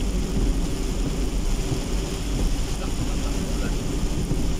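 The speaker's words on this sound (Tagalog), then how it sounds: "Bakit ang lakas ng ulan dito sa Barutag Iloilo?" Dense, steady hiss of heavy rain at night in Barotac, Iloilo, with low rumbling wind noise underneath, continuous throughout with no pauses.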